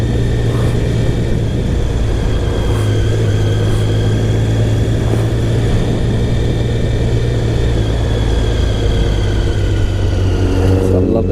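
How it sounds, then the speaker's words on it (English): Triumph Sprint GT SE 1050 motorcycle with its three-cylinder engine droning steadily under way on the road, loud and close with strong wind rush and a sustained tonal hum, rising slightly near the end. "So I love the sound of that engine."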